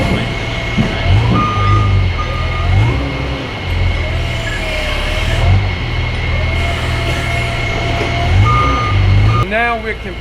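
A loader's reversing alarm beeps repeatedly while steel strand coils are loaded onto a trailer, with the beeps in regular bursts over a loud idling truck engine and a brief air-brake hiss near the end.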